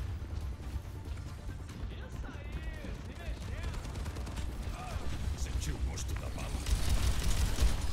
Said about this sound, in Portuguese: Alguém tá me atirando aqui, eu não sei quem é